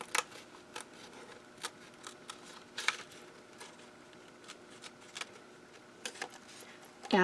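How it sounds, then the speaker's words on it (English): Scissors cutting scrapbook paper, faint scattered snips and clicks over a low background hum, with no talking. "I'm going to go ahead and cut the section with the green"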